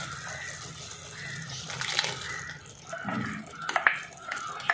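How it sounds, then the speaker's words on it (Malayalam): Water pours into a thick Kerala-style mango curry with drumsticks cooking in a pot, a soft splashing stream with a few louder gurgles and clinks, fairly quiet. "നമുക്ക് അതിൽ കുറച്ച് വെള്ളം കൂടെ ചേർത്ത് കൊടുക്കണം."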